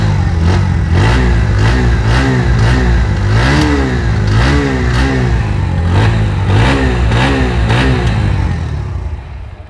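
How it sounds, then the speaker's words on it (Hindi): A 2024 Bajaj Pulsar NS125 motorcycle revs repeatedly, its exhaust note rising and falling in a steady rhythm of throttle blips over idle, loud and close, before fading slightly at the end. "तो ये था कुछ इसका एग्जॉस्ट नोट और इंजन साउंड।"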